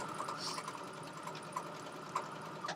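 A home sewing machine runs steadily at close range, its fast mechanical stitching hum continuing for a few seconds with small clicks and bumps along the way.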